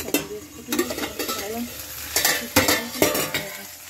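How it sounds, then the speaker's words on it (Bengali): Soaked raw chickpeas are fried in a wok, a steady sizzle broken by repeated scraping strokes and metallic clanks of a spatula against the pan. "ছোলাটাকে ফ্রাই করছি, কাঁচা ছোলা ভিজে দিয়েছিলাম, তো সেটাকে একটু ফ্রাই করছি"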